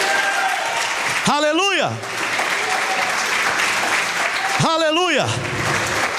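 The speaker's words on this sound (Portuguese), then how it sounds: "Fique em pé e dê um aplauso ao Senhor." A congregation in church applauds, sustained loud clapping throughout, while a voice twice calls out in a drawn-out, sung exclamation over the applause.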